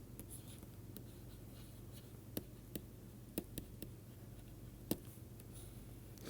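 Chalk or marker writing on a board during a mathematics lecture on commutative rings, with steady faint scratching strokes and several sharp taps across a quiet room, no talking.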